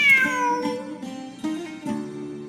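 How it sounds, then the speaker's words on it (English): A cat meowing in the Genshin Impact video game, several clear, drawn-out meows in a row, close and fairly loud against a quiet game backdrop. "Wait, there it is! The cat!"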